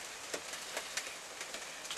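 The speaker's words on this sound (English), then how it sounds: "You can hear the rain dropping down there." Rain drips and patters onto a surface outdoors in a soft, steady hiss, with scattered sharper drops landing at irregular intervals.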